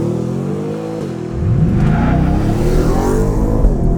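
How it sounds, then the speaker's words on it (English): Ford Raptor R pickup truck doing a four-wheel burnout: a loud, close engine roar that jumps sharply as revs climb and then holds a strained, tire-spinning howl. "Four-wheel burnout."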